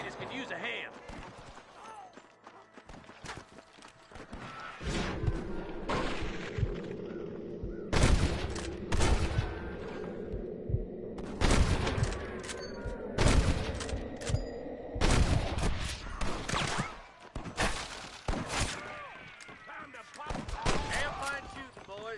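Repeated gunshots in a Red Dead Redemption shootout, loud cracks and bursts fired in irregular volleys over continuous ambient noise, with voices talking throughout.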